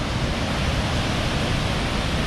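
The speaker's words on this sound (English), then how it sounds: "Just to see how epic the waterfalls are flowing right now. This is Cane Creek Falls." Cane Creek Falls running heavy after a lot of rain, a loud steady roar of falling water that fills the whole stretch without a break.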